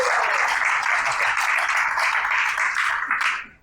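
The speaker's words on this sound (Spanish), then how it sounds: "Un aplauso para Salva." A conference audience applauds a speaker, with steady dense clapping from many hands throughout that fades out at the end.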